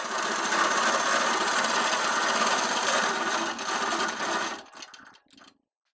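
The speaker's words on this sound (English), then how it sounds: "we want to manually turn the machine around all the way down" A Bella Prima sewing machine whirs steadily and close for several seconds, then slows into a few scattered clicks and falls silent.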